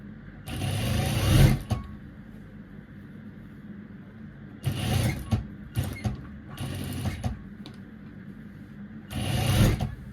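Sewing machine stitching a dress seam, running in three long bursts of steady close whirring with short stutters between, separated by quiet pauses.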